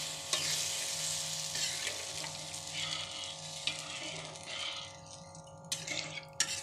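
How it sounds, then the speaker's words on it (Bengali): Bhola fish kalia being stirred in a pan after water is added, a steady close sizzle and bubbling under soft scraping strokes of a spoon, with a few sharper clinks near the end. "পরিমাণ মতো জল দিয়ে ভালো করে নেড়ে"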